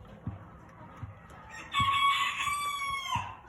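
Bantam White Crested Chocolate Polish chickens in a pen give a few soft clucks, then one rooster crows loudly for over a second. Low thumps and rustling continue underneath.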